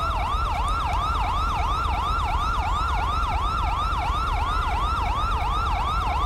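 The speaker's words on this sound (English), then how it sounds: "That siren needs to be turned off" An emergency vehicle siren wails in GTA V in a fast, steady up-and-down yelp, loud and continuous with constant road rumble underneath and no talk.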